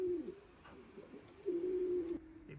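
Young racing pigeons at a loft give soft, low coos, one drawn-out call after another. The coos are moderately close, with faint background noise and no speech.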